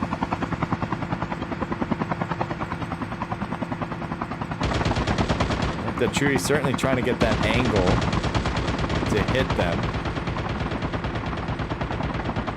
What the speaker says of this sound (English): Yep, shots from the helicopter.